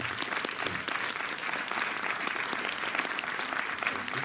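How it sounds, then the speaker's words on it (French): A cinema audience applauds steadily, a dense even wash of many hands clapping for several seconds at moderate distance. "on peut les applaudir"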